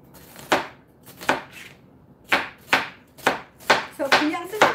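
A knife thinly slicing a vegetable on a cutting board, about seven crisp, evenly spaced chops close up with short pauses between strokes and no talking.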